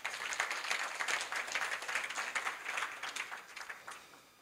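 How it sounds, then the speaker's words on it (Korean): Fairly quiet audience clapping at a university business school event, rippling along steadily from a distance and tapering off at the end. "박수로 맞아주시기 바랍니다"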